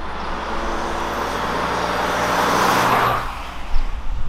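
An Audi A7 50 TDI quattro on the move gives a steady low road rumble with tyre and wind noise that swells gradually, then a few brief bumps near the end. Nobody speaks.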